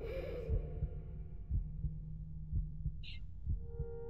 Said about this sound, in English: Why is there the heartbeat sound?